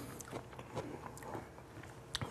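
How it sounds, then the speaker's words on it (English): Crunchy battered onion rings being bitten and chewed close up in a home kitchen, a few crisp crackles and soft chewing sounds, fairly quiet with no talk. "these are so crunchy. Listen to that"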